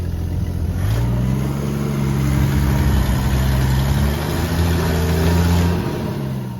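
A 1968 Ford F500 truck engine rumbles low as the truck pulls forward, its pitch rising and falling with throttle changes, steady and close for several seconds with no voices.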